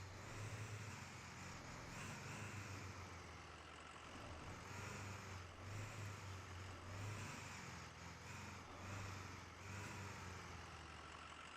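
In the Snowrunner video game, a truck's engine revs as it strains to drive out: a faint, continuous low diesel rumble that rises and falls gently throughout.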